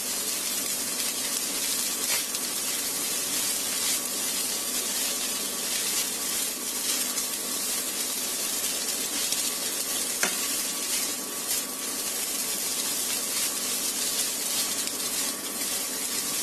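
A snack fries in a pan with chopped coriander leaves while being stirred, giving a steady broadband sizzle throughout with occasional scraping strokes of the spoon, close and continuous, with no talking.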